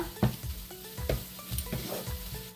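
Sautéed onions for a Kerala egg roast stirred in a pan, a spoon scraping and clinking several times against the pan over a soft, steady sizzle.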